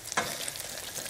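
Oyster pancakes (Korean gulbuk jeon) fry in oil in a pan, a close continuous crackling sizzle with a brief stirring scrape near the start, no voices heard.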